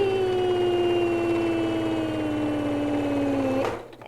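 A sewing machine runs a line of top stitching on a fabric boxed pouch with a steady, close motor hum and fast rhythmic needle clatter that drifts slightly lower in pitch, then stops abruptly near the end.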